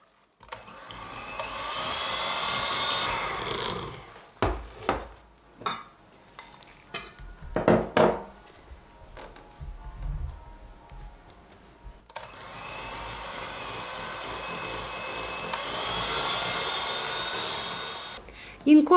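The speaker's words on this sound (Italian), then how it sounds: "Incorporo metà della meringa con la frusta elettrica e l'altra metà con la frusta a mano." An electric whisk blends mascarpone cream with meringue in a home kitchen, whirring steadily for long stretches at the start and end, with a quieter gap of scattered clinks and bumps in between.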